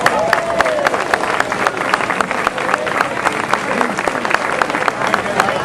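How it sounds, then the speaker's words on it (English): A crowd of families at an outdoor Down syndrome buddy walk festival claps in dense, steady applause lasting several seconds, broad and fairly loud, with crowd murmur mixed in. "Please give yourselves a big round of applause."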